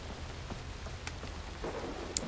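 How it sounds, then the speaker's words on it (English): Rain with rolling thunder in the video game Far Cry 3: a steady wash of falling rain carries on throughout, with a sharp crack near the end, and no one speaks. "Really, raining."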